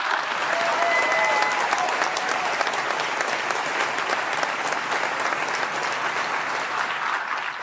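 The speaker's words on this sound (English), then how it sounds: "I think she deserves another round of applause" Sustained applause from an audience at an award ceremony in Boston, a dense, steady wash of clapping that continues at an even level throughout without letting up.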